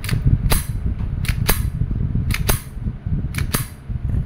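Sharp shots from an Umarex Glock 17 Gen 5 pellet airgun pistol crack out one by one at a steady pace, about eight in all, over a low background rumble.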